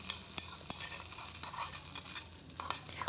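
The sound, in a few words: tempering poured into peanut coconut chutney and stirred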